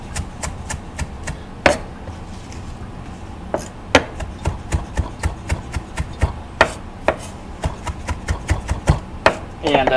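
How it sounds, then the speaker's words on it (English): A knife chops curly parsley on a board in quick, uneven taps, close and crisp, in bursts of rapid strokes with short pauses between. "that we're just going to chop up"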